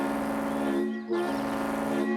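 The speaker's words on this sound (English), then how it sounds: "And that's a tugboat horn. Another honker." A deep, droning tugboat horn blasts twice, broken by a short gap, loud and close with a steady low tone and no talking.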